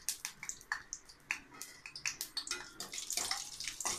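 Cashews dropped into hot ghee in a small pan for javvarisi payasam, a quiet crackling, spitting patter of irregular pops and bubbling that thickens toward the end, close up and without voices.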